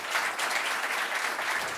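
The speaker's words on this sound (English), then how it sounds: "I want to thank our speakers again with a big round of applause" A conference audience applauds its speakers, a dense, steady round of clapping from many hands that fills the room evenly for under two seconds with no voices.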